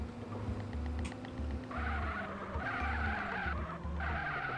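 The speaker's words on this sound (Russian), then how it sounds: "Даже пытается немножко дрифтануть." Mercedes W140 sliding through a turn in a GTA street race, long tire squeal and skidding over a low droning engine, steady and fairly loud with no talk.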